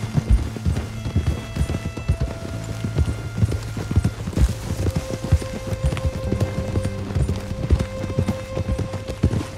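Rapid, rhythmic clip-clop of horse hooves galloping steadily in the video game Red Dead Redemption 2, loud and close, continuing without pause and with no speech.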